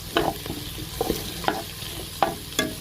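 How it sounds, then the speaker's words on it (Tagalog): Onion, ginger and garlic sautéing in a pan for laing, a soft continuous sizzle broken by about six regular spatula scrapes and clacks against the pan, close and alone. "Lagyan na natin yung sibuyas. Ayun, nilagay ko na lang yung luya. Nakalimutan ko. Tapos yung ating bawang."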